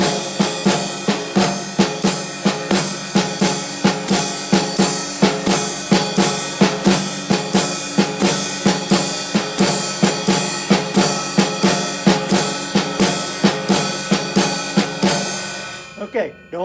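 A drum kit plays a steady jazz pattern that fills every eighth note, with regular cymbal and drum strokes running evenly for about sixteen seconds before stopping abruptly, loud and close with no talking.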